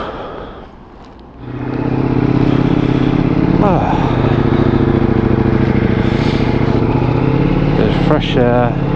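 Motorcycle engine running steadily and loud while riding along a countryside road, a continuous droning hum with a brief revving rise near the end after a quieter opening moment.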